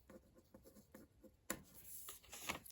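Pen scratching across paper as a name is written, a series of short faint strokes followed by a sharper, busier burst of scribbling, close and quiet with no talk.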